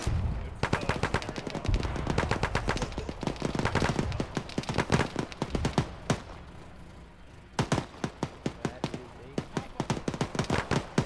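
Rapid bursts of automatic gunfire from a gun turret in a military video game, dense and loud, with repeated volleys over about eleven seconds, a short lull near the middle, then sharp spaced shots; voices talk underneath.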